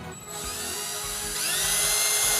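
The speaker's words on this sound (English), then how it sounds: "Just going to drill some pilot holes here." A power drill whines steadily, its pitch rising as the bit bores pilot holes into wood, close and continuous with no talking.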